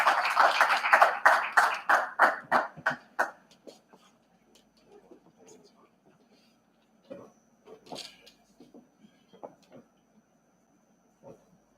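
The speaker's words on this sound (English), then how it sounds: "If you can also give them a round of applause." A conference audience applauds an award, several seconds of clapping that quickly fades out, leaving a quiet room with scattered small knocks and movement.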